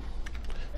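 Keys clacking on a computer keyboard during name and ID entry in a mail merge exercise, a few quick close taps over a steady low background hum.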